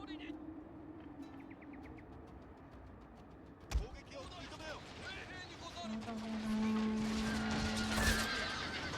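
A horse whinnies loudly amid a busy Total War: Shogun 2 battle soundscape with clattering hooves, a sharp impact, and a sustained tone near the end.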